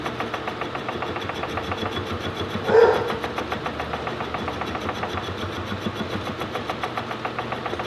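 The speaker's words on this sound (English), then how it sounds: "Sounds like Petey Doggy's barking at me." A pet dog named Petey gives a single short bark in a home workshop with a 1948 Logan 200 lathe, heard at moderate distance over a constant mechanical drone.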